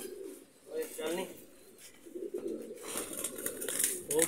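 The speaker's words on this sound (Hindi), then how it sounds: "ये जी दोस्तों कबूतर है माशाल्लाह" Pigeons coo in soft, rolling bursts nearby in a breeder's setup, broken by brief gaps, with faint rustling and background noise throughout.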